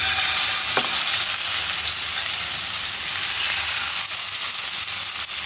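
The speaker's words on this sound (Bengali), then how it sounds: "আজকে সরিষার তেল দিয়ে ইলিশ মাছ ভাজবো।" Hilsa fish fry in hot mustard oil with a loud, dense, continuous sizzle and crackle, close up, with a single sharper pop near the start. No voices.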